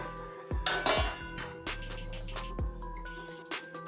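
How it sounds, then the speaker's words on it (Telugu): Metal spatula scraping and clinking against a pan while homemade breadcrumbs are dry roasted without oil, a few sharp close taps and scrapes at an irregular pace, quiet and alone. "ఒక 10 మినిట్స్ వరకు ఇలా కలుపుతూ ఉండాలి."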